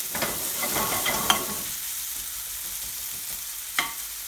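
Chopped onion frying in a pan for a chicken aloo madras curry, added with garlic and methi, gives a soft hiss and a few stirring scrapes, with a faint sizzle after the first moments.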